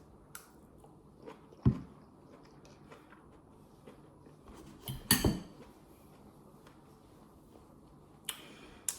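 Someone eating a dish of okra, spinach and egg: a few sharp, close bites and crunches with quiet chewing and faint cutlery clicks between them, with no talking.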